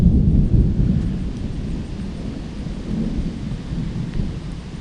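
Loud low thunder rolls outdoors, with rain building behind it, as a storm front approaches near a spot where someone is working on an Oliver 1550 gas tractor.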